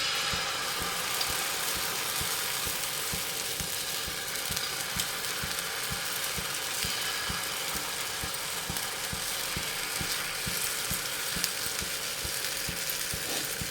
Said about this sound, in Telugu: సో పెనం కాలింది. ఇప్పుడు దీంట్లో దోశ వేద్దాం